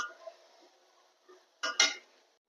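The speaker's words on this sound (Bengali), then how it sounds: "এখন আমি বাজিটা একটা বাটিতে নিয়ে নিচ্ছি" Fried papaya bhaji being scooped out of a pan into a bowl, a few soft scrapes followed by two brief, bright clinks of a spoon against the dishes, close and quiet.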